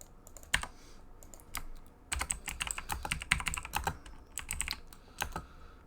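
Computer keyboard keys clicking in irregular bursts while playing an online Magic: The Gathering Modern league match, with a few isolated taps followed by denser runs of typing, close and fairly quiet, with no speech.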